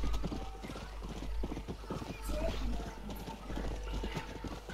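Horse hooves clip-clop steadily during a ride in Red Dead Redemption, a fairly loud rhythmic trot with a brief whinny, while someone talks over it.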